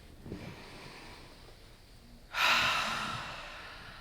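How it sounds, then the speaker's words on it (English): Group deep breathing led in a session: a soft inhale, then a loud shared exhale that rises suddenly and slowly fades, close and with no talking. "Let's take a deep breath together. One more."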